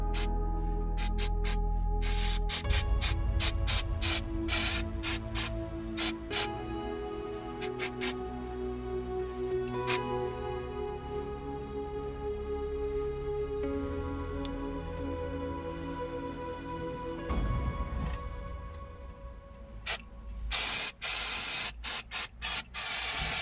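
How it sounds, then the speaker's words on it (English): Brake and clutch cleaner hisses in aerosol bursts onto a brake caliper from a MKIV 2JZ Toyota Supra, steady spraying close by over a long stretch, with clicks and clatter mixed through and no talk. "We'll give it a going over now with a bit of the brake and clutch cleaner"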